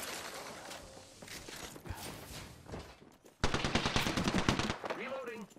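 Video game gunfire: scattered shots and clatter, then a loud, rapid automatic burst of evenly spaced shots lasting about two seconds, followed by a few mechanical clicks.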